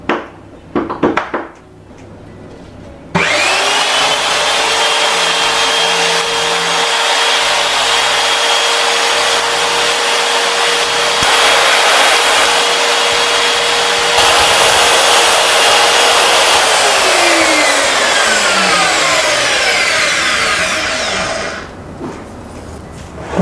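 A Mollar CS5830 electric circular saw, a corded wood-cutting tool, spins up to a loud, steady high whine held for about eighteen seconds, then winds down as the blade slows, with no talking over it.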